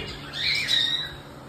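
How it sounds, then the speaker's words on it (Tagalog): Gamefowl chicks at a breeder's pen give a short burst of thin, high-pitched cheeping calls, fairly close and moderately loud, with no talking. "So ito yung sisiw."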